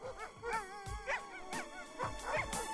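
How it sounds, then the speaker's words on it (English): Excited sled dogs bark and yip in repeated sharp bursts, with whining howls between them, loud and near in a busy outdoor setting. "The dogs are excited."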